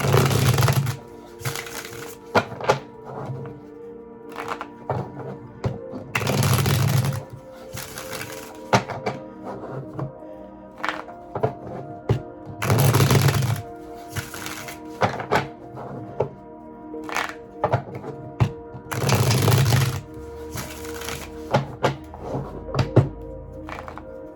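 Tarot cards being shuffled in a series of brisk riffles, each burst a crisp flurry of snapping, with soft handling thumps between and no talking.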